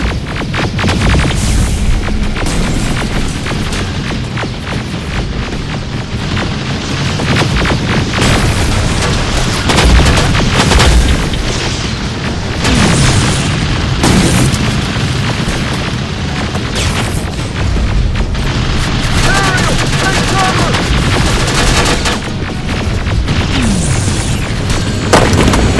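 In the video game Terminator Resistance, gunfire and explosions roar without letup, a dense, loud wall of booms, blasts and rapid shots that fills the whole stretch.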